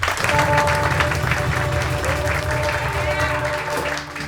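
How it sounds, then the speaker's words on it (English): Concert audience applause at the Ethno New Zealand 2023 Lopdell House Concert, a full steady clapping wash with a low sustained tone beneath it, tapering slightly at the end. "another round of applause"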